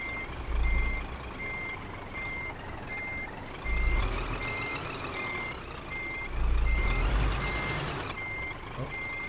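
Truck in Euro Truck Simulator 2 reversing, its steady repeating backup beeps sounding throughout over a low engine rumble, with the engine surging louder at intervals.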